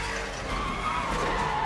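A car skidding in The Last of Us video game, a sustained loud tire screech over engine rumble lasting the whole moment, with no talking.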